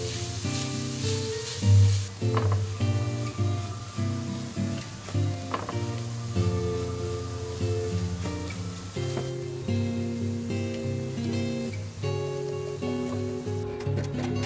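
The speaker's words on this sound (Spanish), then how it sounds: "Sofreímos durante 5 minutos, removiendo de vez en cuando para que se ablande" Diced red onion sautéing in a pot while being stirred now and then, a steady close sizzle throughout with background music playing over it.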